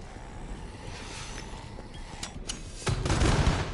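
Gunfire in the video game Killing Floor 2, a steady background of game noise with a few sharp shots, then a louder burst of rapid firing near the end.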